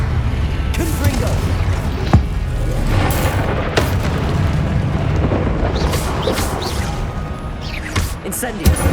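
Confringo blasting-spell explosions in Hogwarts Legacy: loud crackling booms and sharp bursts repeating across a dense, noisy combat mix, with a voice calling out spell names.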